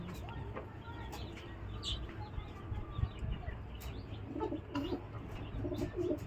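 Imported racing pigeons coo softly amid a busy loft, with low rumbling background noise and scattered faint chirps from other birds over about six seconds.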